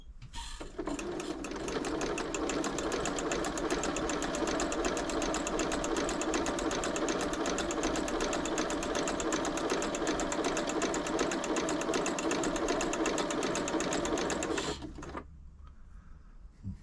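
A Janome Memorycraft 3000 sewing machine runs steadily through its stitches, a loud, even mechanical whir with rapid needle ticking that holds for about fourteen seconds, then stops, leaving a quiet tail.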